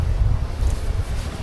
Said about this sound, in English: Proper wind up, which is good.